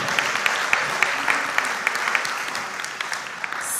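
An audience claps for a school quiz team at a competition. The applause is a brisk, moderately loud patter of many hands lasting a few seconds, with no voices over it.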